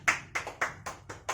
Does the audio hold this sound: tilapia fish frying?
no